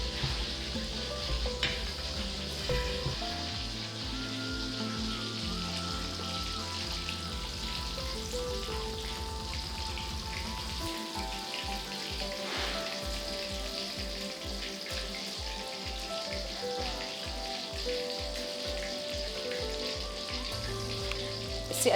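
Cheese balls frying in hot oil give off a steady, dense sizzle and bubbling that goes on without a break, with a low rhythmic hum in the background and no talking.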